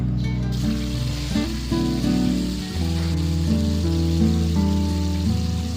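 Green tomatoes and black cumin sizzle in hot oil with a steady, soft hiss that runs under prominent background music throughout.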